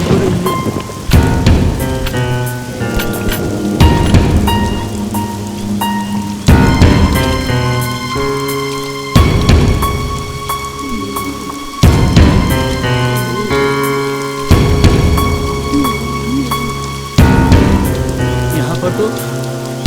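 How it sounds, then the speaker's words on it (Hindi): Heavy rain pours down in a horror film scene, with rumbles of thunder and a tonal musical score that swells in repeated bursts over the constant downpour. "बारिश अभी भी हो रही है।"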